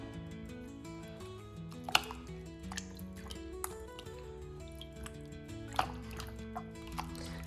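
Homemade butter washed in a bowl of water to rinse out buttermilk, with soft sloshing, squishing and dripping up close, a few sharper splashes standing out; background tones run underneath.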